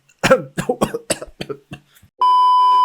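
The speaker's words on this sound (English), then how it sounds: "I had a coughing fit." A rapid run of harsh, close coughs, about eight in quick succession, followed by a steady electronic beep tone.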